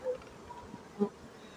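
Bees buzz softly inside an opened hive nest, a faint, uneven hum with a couple of brief louder passes near the microphone.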